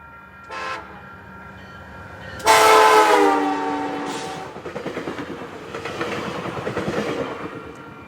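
A northbound freight train in Woods Cross, Utah, led by an MP36 locomotive, sounds a loud sustained horn blast, followed by the rumbling, rhythmic clatter of railcars rolling past nearby.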